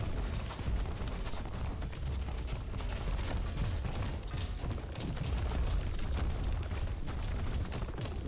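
Continuous explosions from critical-hit damage in the top-down roguelike shooter Echo, a dense, steady rumble of overlapping booms and bursts that never lets up.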